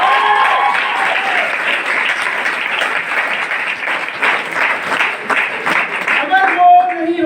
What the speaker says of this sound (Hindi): आपकी जोरदार तालियों के साथ मैं नाम लेना चाहूंगा, his none other than mister Vijay Kumar Hanumat.